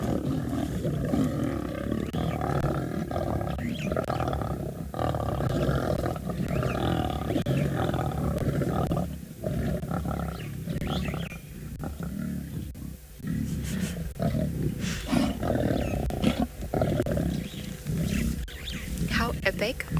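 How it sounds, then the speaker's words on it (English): Wild lions on a South African morning safari roar repeatedly in deep, rumbling calls that carry on through the whole stretch, with a person speaking quietly over them. "these lions making these noises this morning"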